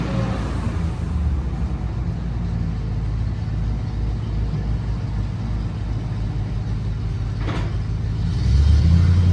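A late-1970s dump truck engine idles with a steady low rumble, growing slightly louder near the end, with a brief clank midway.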